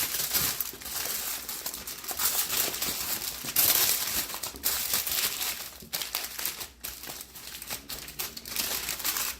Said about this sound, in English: we're going to go ahead and wrap the foil around our ingredients